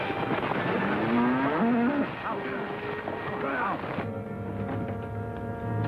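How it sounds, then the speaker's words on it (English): Cattle on a railway track low and moo in drawn-out calls, loud and near, with a voice over them urging the animals to get up. "Just some cattle on the track."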